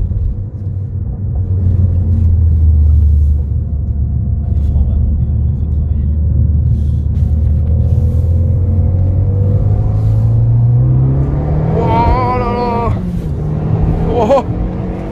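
A car's engine rumbles deep and loud while being pushed hard on a racing circuit, a steady drone that climbs in pitch toward the end as the revs rise, with people talking over it.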